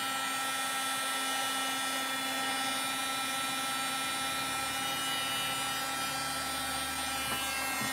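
A heat embossing tool blasts hot air over embossing powder to melt it, giving a steady, loud whirring drone with a constant motor hum that runs unbroken from start to finish.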